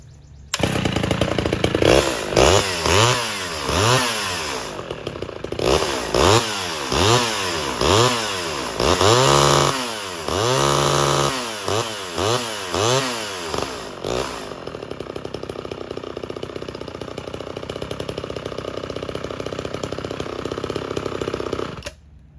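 A chainsaw is pulled several times in quick rhythmic bursts without choke, then catches and runs with a loud, steady close-up engine drone that holds to the end.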